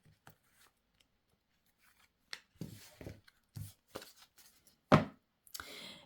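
Tarot cards are handled and shuffled in short papery bursts of rubbing, slapping and flicking, separated by quiet pauses, close and fairly soft, with no talking over them.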